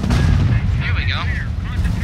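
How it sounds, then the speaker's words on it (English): An artillery creeping barrage in the WWII strategy game Company of Heroes: Opposing Fronts, heavy rumbling booms and blasts rolling together over a deep low roar, with a voice talking over them. "Can we do a creeping barrage somewhere?"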